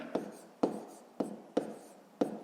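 A pen writes figures in a school maths exercise book, five sharp separate strokes tapping and scratching on paper at a steady pace, close and fairly quiet over a faint room hiss.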